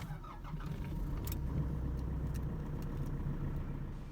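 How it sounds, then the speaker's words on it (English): 2020 Nissan NP300 Hardbody pickup engine starting with a key, a short crank catching into a steady, moderately loud idle rumble with faint clicks on top, no talking. "Starting this vehicle is as simple as inserting a key and turning just like any other car."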